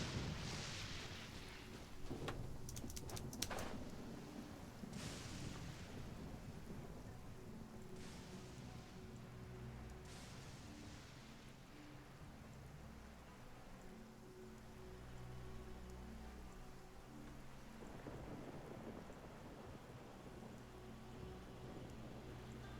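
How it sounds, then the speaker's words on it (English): Steady rain patters through a stormy scene in the video game Genshin Impact, with low thunder rumbling beneath and a few sharp crackling bursts early on, continuous and fairly loud throughout. "It's raining again."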